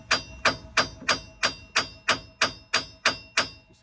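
A hammer taps on a Ford Excursion ball joint with a nut threaded onto it, giving about nine evenly spaced, sharp metallic strikes, close and loud, with no talking.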